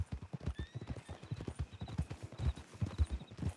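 Horse hooves clop in a quick, steady rhythm at close range in Red Dead Redemption 2, with a faint whinny and a light high ringing above the footfalls.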